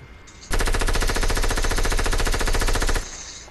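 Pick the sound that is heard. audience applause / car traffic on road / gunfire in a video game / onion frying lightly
gunfire in a video game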